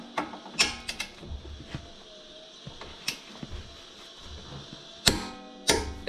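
Torque wrench tightening bolts on a Ford 8.8 limited-slip rear end during a Crown Vic axle swap, giving several sharp ratcheting clicks and a few louder snaps spread across a quiet garage, with no talking.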